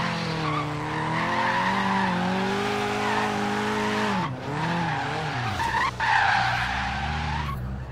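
A Nissan 240SX slides sideways in Forza Horizon 3, its tires squealing long and loud over a revving engine. The squeal dips twice as the car brakes and shifts, then swells back up.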